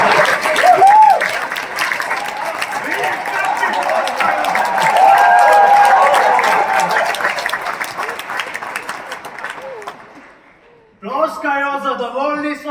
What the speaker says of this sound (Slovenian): Ploskajo, zadovoljni so z meno